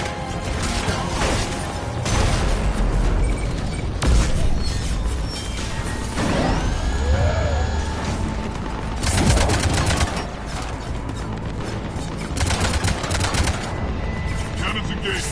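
Ship cannons firing in Mass Effect Legendary Edition, repeated loud heavy blasts and mechanical clatter in irregular bursts, mixed with whooshing game effects and occasional voices.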